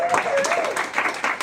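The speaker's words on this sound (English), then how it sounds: "Applause for work you did 14 years ago." Audience applause at a live radio theater performance: steady, dense clapping from a crowd, running under a person talking throughout.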